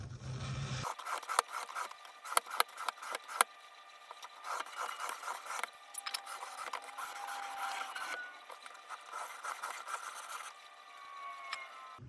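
A kitchen knife is sharpened on a 600-grit whetstone in quick, rhythmic scraping strokes, close and crisp, with bursts of rapid passes separated by brief pauses and no talking.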